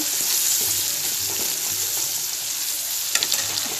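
Onions fry for a rohu fish curry, a steady broadband sizzle filling the pan with a few soft stirring scrapes, close and continuous, one sharper clatter near the end, no talking.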